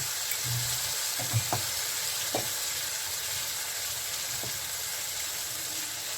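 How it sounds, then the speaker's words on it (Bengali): Turmeric dropped into hot oil in a pan gives a steady soft sizzle with a few brief clinks and scrapes of stirring, moderately close, no talk. "এর মধ্যে আমি দিয়ে দিচ্ছি একটু পরিমাণ মতন তেলের মধ্যে হলুদটা দিচ্ছি"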